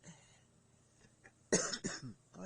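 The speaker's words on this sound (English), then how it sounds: "Didn't mean to cough in your ear there." A person coughs close to the microphone, two or three harsh bursts in quick succession after a quiet stretch.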